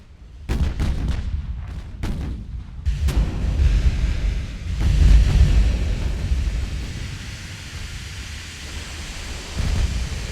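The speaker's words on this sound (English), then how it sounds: "We're firing the big guns at our destroyers." Big naval guns fire in the naval warfare game Ultimate Admiral: Dreadnoughts, with several heavy booms early on rolling into a long, loud, rumbling wash of low thunder-like noise that swells and fades, then another boom near the end.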